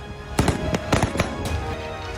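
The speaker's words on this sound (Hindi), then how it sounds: "इस भीड़ को टारगेट कर फिर फायरिंग हुई।" Gunfire at Kabul Airport: a rapid string of sharp cracks and bangs, several shots close together over a couple of seconds against a rough background.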